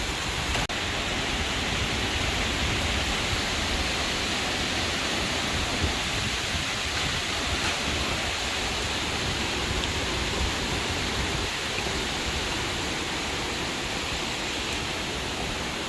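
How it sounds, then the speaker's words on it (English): A continuous, broad roar of surf rushes steadily without breaks, heavy waves washing ashore on the Iloilo coast during Tropical Storm Paeng (Nalgae), moderately loud with no voices. "You can really hear the seashore out there too."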